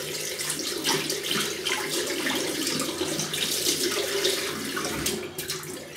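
Tap water runs in a steady splashing stream into a sink as a shaving brush is wetted, close and continuous for several seconds.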